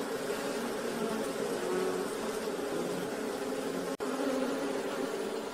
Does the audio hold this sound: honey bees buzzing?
yes